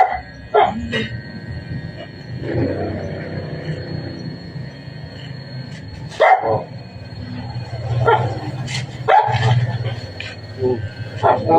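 A dog barks several times in short, irregular bursts, fairly close, over a low rumbling background.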